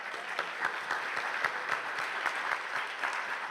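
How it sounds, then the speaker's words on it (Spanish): Strong applause fills a conference hall as an audience welcomes a keynote speaker at an international radio biennial, a dense, steady wash of clapping throughout with no voices. "Lo recibimos con un fuerte aplauso."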